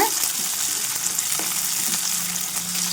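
Onion and cauliflower pieces fry in oil with a steady, close, fairly loud sizzle, joined by a few soft stirring clinks and scrapes from a utensil.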